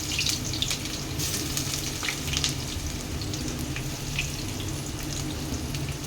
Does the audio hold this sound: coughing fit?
no